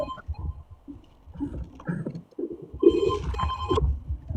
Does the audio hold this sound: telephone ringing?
yes